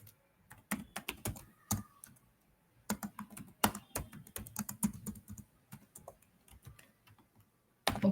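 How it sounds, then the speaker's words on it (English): Typing on a computer keyboard in bursts of quick key clicks separated by short pauses, close and fairly quiet, with no talking. "So type the text"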